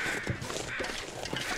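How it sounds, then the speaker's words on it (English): Crows cawing in The Long Dark, a wilderness survival video game, a few harsh calls at moderate distance over steady wind-like ambient noise. "Some crows nearby."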